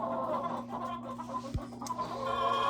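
Chickens clucking inside a coop in winter: soft, scattered clucks and low murmurs from several birds, close by, with one sharp thump partway through and a brighter call near the end.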